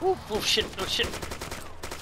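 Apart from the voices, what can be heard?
gunfire in the video game Arma 2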